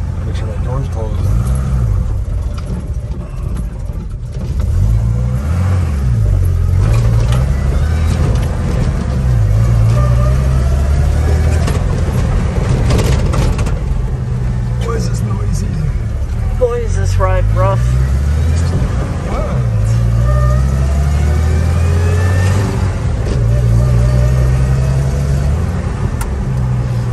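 A Jeep Gladiator (JT) engine drones steadily from inside the cabin while driving, its exhaust note rising and falling with acceleration under people talking.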